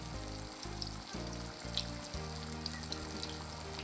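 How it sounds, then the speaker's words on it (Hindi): Thai-style fish deep fries in hot oil with a continuous bubbling sizzle, close and fairly even in level, while a low hum starts and stops underneath and nobody speaks. "इसको आपने डीप फ्राई करना हुआ।"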